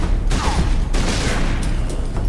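Gunfire in the video game Warhammer 40,000: Space Marine, a few sharp loud shots and bursts in quick succession amid booming game effects and noise.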